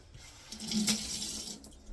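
Cucumbers rinsed under a running kitchen tap, a short soft hiss of flowing water that swells and fades, faint and close, with no voices.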